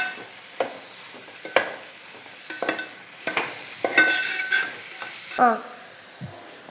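Ingredients sautéed and stirred in a hot pan, with sizzling frying under repeated scraping strokes of a spoon or spatula, close by and moderately loud, with faint speech at moments.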